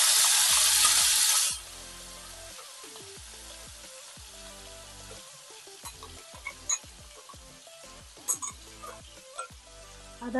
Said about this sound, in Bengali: পেঁয়াজ, রসুন, টমেটোটা আমি পেস্ট করে নিয়েছি, এবার তেলের মধ্যে দিয়ে দিচ্ছি এটা।